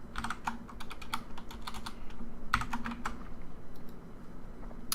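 Rapid irregular clatter of keys on a computer keyboard as code is typed, close and fairly quiet, with bursts of clustered keystrokes and short pauses, no voices.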